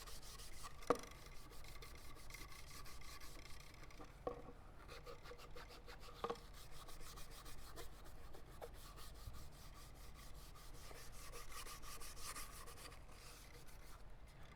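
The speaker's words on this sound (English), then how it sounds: "all you're just trying to do is scuff this up enough to where your paint's gonna adhere good" A red Scotch-Brite pad scuffing a shotgun part before painting, a faint, continuous rapid rubbing rasp with a few soft knocks, close and quiet.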